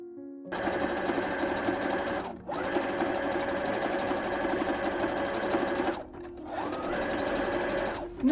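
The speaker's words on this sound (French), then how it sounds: "je vais aller coudre à la machine et bien sûr je travaille toujours avec le point zigzag" Domestic sewing machine running a zigzag stitch on fabric for a long reversible women's shepherd vest, whirring steadily and loudly in three long bursts with brief pauses between, no talking.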